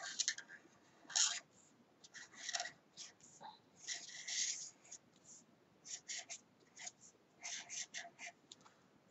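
An embossing pen scratches across a paper bookmark in short, close strokes with brief pauses between words, a soft rhythmic scraping heard alone.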